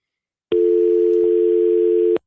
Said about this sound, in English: We got another phone call here.